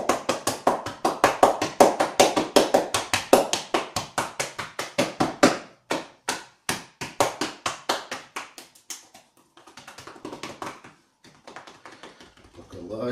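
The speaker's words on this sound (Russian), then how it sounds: "Постукивание." Rapid rhythmic percussive hand tapping over a person's back and spine during a manual therapy massage session, loud and steady for several seconds, then slowing into sparser, softer strikes with brief pauses.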